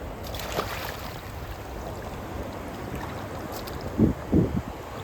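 Sea waves rise and break along a fishing shore, a steady broad wash of surf with a couple of louder breaking surges near the end, no talk.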